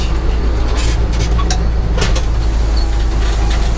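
Bizon combine harvester cutting rye, its engine a loud steady low rumble with mechanical rattling and occasional sharp clicks, continuous and close, with no talk.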